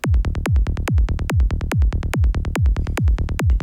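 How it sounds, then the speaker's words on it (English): A deep, dark psytrance kick drum thumps in a steady fast rhythm, each hit sliding into a low bass tone, loud and alone with no voices. "And now we have a nice dark kick and bass."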